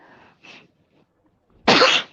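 A single loud, explosive sneeze bursts out close by after a couple of soft, short breathy sounds.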